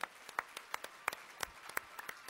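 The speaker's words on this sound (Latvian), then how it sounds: "Aplausi!" Scattered applause from a small audience at an awards event, a handful of sharp, separate claps ringing out at an uneven pace, fairly faint, with no one speaking.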